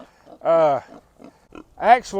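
Pigs grunt and squeal in a wet pasture paddock on a Mississippi farm after tornadoes and storms, with a couple of loud, close, drawn-out squealing grunts between quieter snuffles.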